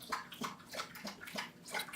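Water runs and splashes steadily, like a tap filling a cup or glass for a drink, in a short, close burst with uneven bubbling pulses and no talk.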